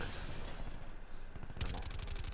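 Rapid bursts of pistol gunfire in Call of Duty 4, a fast string of sharp cracks near the end after a stretch of busier game noise, with no talk over it.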